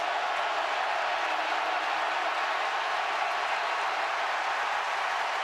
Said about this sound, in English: Crowd here can get a little noisy.